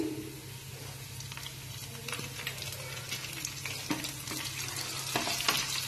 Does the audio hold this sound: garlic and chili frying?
yes